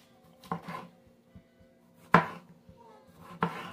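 Knife chopping a second tomato on a cutting board for fish tacos, three or four sharp, separate cuts spread over a few seconds, close and fairly quiet, with no talking.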